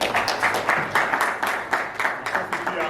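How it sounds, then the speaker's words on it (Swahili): Steady applause from a gathered audience in Kenya for lawyer Mugembi, many hands clapping in a dense, rhythmic patter that swells and dips, with faint voices mixed beneath. "Makofi pia kwa wakili Mugembi."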